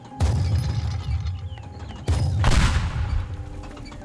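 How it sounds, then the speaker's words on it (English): A gun in the video game Teardown fires in two heavy bursts of booming, rattling shots with mechanical clatter, loud and close, each burst tailing off into a low rumble. "Oh my god, it is a gun."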